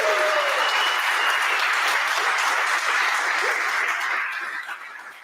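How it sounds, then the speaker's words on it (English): An audience at the GameJamPlus Continental Final Europe game-jam event applauds in a dense, sustained round of clapping that fades toward the end. "So let's give them again a round of applause."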